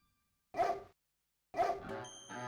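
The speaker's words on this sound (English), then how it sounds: "Guard dog." A guard dog in the King's Quest VI adventure game gives two sharp, separate barks about a second apart, followed by a faint ringing tone, with no talk.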